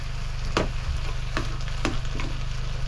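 Venison meat fries on a hot plate in a tiny off-grid cabin, a dense constant sizzle close up with a few distinct stirring scrapes over a low steady hum, and nobody speaking.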